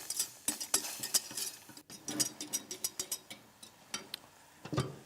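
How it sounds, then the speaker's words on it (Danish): A whisk clinks and scrapes rhythmically against a pot while red wine sauce and butter are beaten together, giving a steady run of light metallic taps with no talking. "Og pisker det godt igennem."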